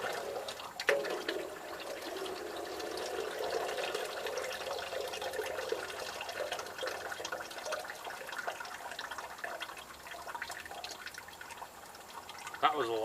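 Antifreeze drains out of a Massey Harris 44 tractor engine, a continuous splashing pour of liquid into a pan, with someone talking over it.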